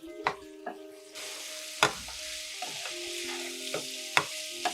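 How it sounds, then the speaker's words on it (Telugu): Spices frying with potatoes and broad beans on a low flame: a soft, quiet sizzle punctuated by sporadic clicks and scrapes of a spatula, with a faint steady tonal hum underneath and no speech. "ఇవన్నీ వేసి పచ్చివాసన పోయే వరకు కొంచెం లో ఫ్లేమ్లో బాగా ఫ్రై చేసుకుందాం"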